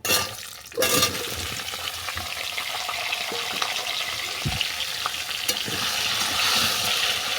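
Mixed vegetables sizzle steadily in hot oil with asafoetida in a pan for a vegetarian bottle gourd greens chorchori, a loud dense frying hiss that runs throughout, with a brief clatter as the vegetables are tipped in near the start.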